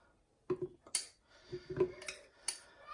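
Metal spoon fetched in a home kitchen while making a breakfast smoothie, giving a few quiet, sharp clinks and taps against dishes in a near, otherwise silent room.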